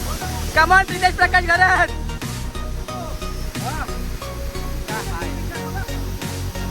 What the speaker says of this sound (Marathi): ये बॉय जव्हारचा प्रीमियम हिडन वॉटरफॉल.